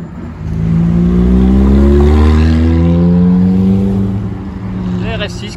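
A naturally aspirated Ferrari V8 revs hard and loud, its pitch climbing steadily through the gears as it passes close by, with a brief sharp crackle at the end.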